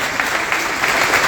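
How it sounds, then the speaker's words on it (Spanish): An audience applauds two specialists at a public budget talk: steady, dense clapping that fills the whole moment without pause. "Les pido por favor un aplauso nuevamente para"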